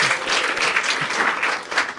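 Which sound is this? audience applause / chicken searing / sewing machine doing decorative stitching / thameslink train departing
audience applause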